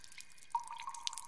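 A single water drop falls faintly with a soft, bright plink, then its tone hangs and fades in a quiet room, with no talking.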